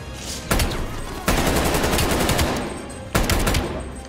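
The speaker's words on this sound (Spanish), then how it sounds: "Una ametralladora, ¿eh? ¿Qué pasa si yo disparo esto?" Machine gun fire in the video game Call of Duty Cold War comes in three loud bursts of rapid automatic shots, close and dense, with short gaps between them.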